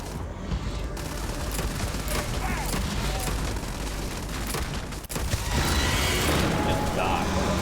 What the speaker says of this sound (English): My shotguns has explosives.